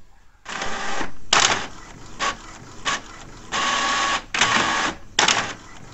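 A printer runs off a black-and-white pattern, producing repeated bursts of buzzy mechanical printing, several long passes and short strokes separated by brief pauses, close and clear.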